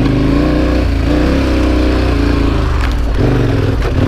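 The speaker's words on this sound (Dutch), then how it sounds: "Het is wel een magnifiek geluid zit in deze motor." A moped-style motorcycle engine ('dikzakbrommer') revving hard while riding offroad, loud and close with a continuous throaty drone and rising and falling pitch as the throttle changes, heard alone without talk.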